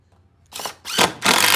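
A power drill drives a coarse-thread number 3 ramp screw into wood for a skate ramp transition flap, three short whirring bursts rising in loudness, close and alone.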